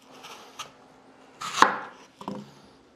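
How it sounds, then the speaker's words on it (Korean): Apples cut into small pieces with a knife for juice: two or three distinct knife chops on a board, one louder in the middle, with quiet gaps between. "그러면 일단 사과를 갈려면은 좀 작게 잘라줘야 되겠죠?"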